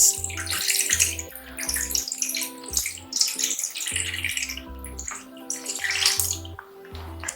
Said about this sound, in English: So now I'm going to add some water into the pot.